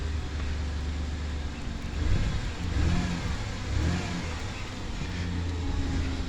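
A 2002 Ford Explorer's 4.0 V6 runs steadily at idle, a smooth low hum with a mild swell in revs midway through, close and continuous with no talking.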